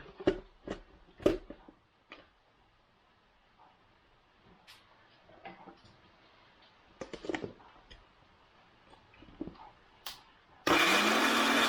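Scattered clicks and light handling noises give way to a loud blender suddenly roaring to life as it grinds sauce ingredients for japchae, running only briefly before the end.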